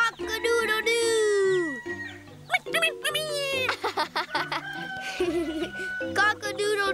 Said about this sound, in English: He just keeps crowing.